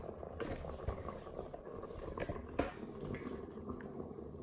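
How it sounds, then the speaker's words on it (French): Chicken vermicelli cooking in a Cookeo multicooker, a faint bubbling, simmering liquid with soft gurgles and occasional small pops, quiet and steady at close range. "Cuisson sous pression."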